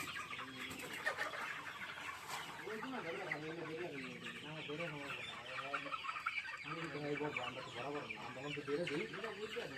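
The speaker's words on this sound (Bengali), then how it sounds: "আপনি মুরগি ধরবেন" Chickens cluck continuously and up close in a pen as they are rounded up to be caught for sale, with busy overlapping calls and a faint murmur of voices beneath.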